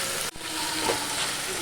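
Taro stolons (kochur loti) fry with chili in a pan, giving a short burst of close, steady sizzling with a brief stirring knock.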